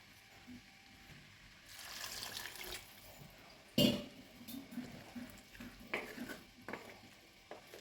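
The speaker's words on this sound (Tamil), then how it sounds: "தண்ணி சேர்த்துடலாம்" Water poured from a large tumbler into a pan of bottle gourd curry, a splashing gush with a sharp clank of vessel on pan midway, then lighter sloshing and clinks.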